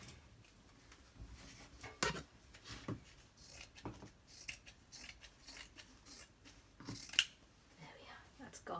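Scissors snipping through travellers notebook cover material in a few scattered, close cuts with quiet pauses between, faint handling noise and soft background voice around them.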